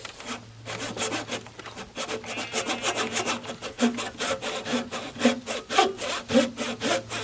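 A hand saw cutting through wood in steady back-and-forth strokes, close and loud, with a continuous rasping rhythm and a faint low hum underneath.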